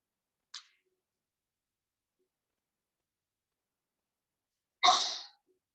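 During a quiet yoga nidra class, a faint short sound is followed a few seconds later by a single sharp, fairly close sneeze in near silence.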